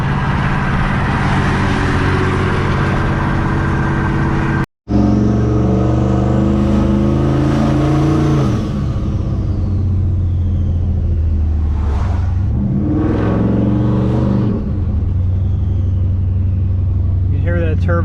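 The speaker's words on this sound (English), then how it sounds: "Turbo just screaming as we take off in traffic here." Turbo GMC full-size pickup towing a trailer pulls away in traffic, engine rumbling and rising through the gears with a whining turbo, loud and close throughout, and a voice talks over it.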